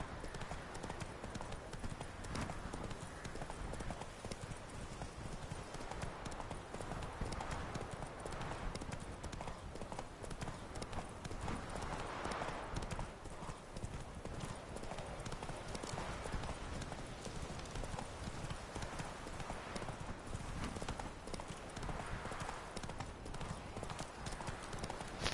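Horse hoofbeats from riding in The Witcher 3, a steady, continuous clip-clop gait that runs the whole time at fairly close range, layered over a broad ambient wash with no speech.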